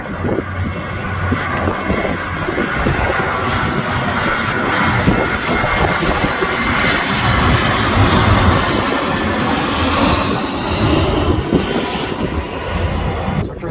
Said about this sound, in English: we have another jet just coming towards us